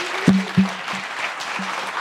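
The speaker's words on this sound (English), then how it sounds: "Big round of applause." A tech-talk audience applauds as a speaker takes the stage, a continuous patter lasting two seconds with a few dull low thumps near the start.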